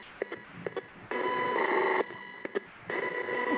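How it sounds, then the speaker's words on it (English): An electronic phone-like ring sounds during a paranormal investigation: two sustained, warbling ring bursts, the second cut off at the end, with brief clicks and low background noise between them. "A funny sound. Like a phone ringing."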